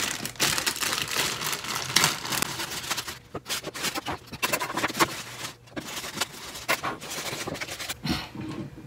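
Sealed plastic packaging crinkling and tearing as a Katsuki Bakugo ichiban kuji figure from My Hero Academia is unwrapped, continuous close rustling and crumpling with brief pauses.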